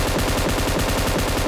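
An MK8X rifle fires a fast, continuous burst in PUBG Mobile, each shot pounding evenly in a tight rhythm for about a second and a half, loud and close with no talking.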